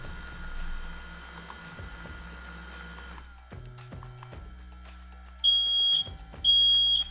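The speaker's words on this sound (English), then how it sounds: "And now my fire alarm just went off." Shrill electronic smoke alarm beeps in two long bursts, loud and close, after a stretch of mechanical clatter and hum from a handheld fog machine.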